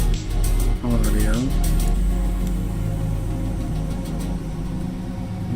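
Interior engine sound of a car in Assetto Corsa EVO, a racing video game played in VR: a steady mid-pitched engine drone with a brief rising-and-falling rev early on, continuous and fairly loud throughout, no speech.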